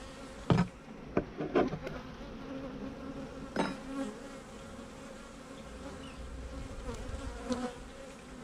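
Worker honey bees buzz around an open hive, faint and nearby, while a few sharp knocks and clicks from the hive frames come through. Nobody speaks.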